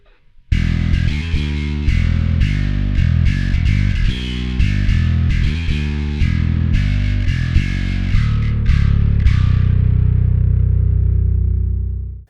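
Distorted bass guitar through a Darkglass Microtubes X7 pedal from its main output, playing a driving riff of close, loud notes before settling on a long ringing note that fades away.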